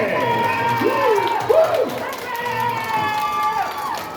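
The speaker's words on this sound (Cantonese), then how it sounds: "再次全場最熱烈嘅掌聲俾佢哋" Audience at a live promotional music show claps and cheers under an amplified host's voice and lingering music, a lively mid-distance burst of crowd noise.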